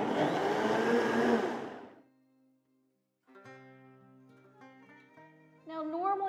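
A blender blitzes an evaporated milk mixture for a vegan kugel, a loud, steady whir that winds down and fades out, followed by a quieter stretch with a brief tonal hum and a voice at the end.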